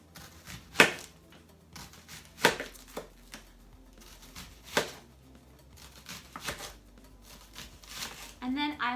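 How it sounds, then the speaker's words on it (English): A large onion sliced with a knife on a cutting board: a handful of sharp, separate chops spaced out over several seconds, close and moderately loud, with quiet kitchen background between strokes. "I have a large size onion which I will slice up."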